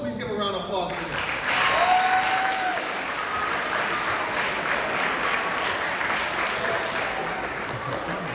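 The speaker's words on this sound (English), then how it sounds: "Please give a round of applause for them." Middle school students in a school gathering break into sustained applause, a broad, even wash of clapping with a brief voice and a short whistle-like tone near the start.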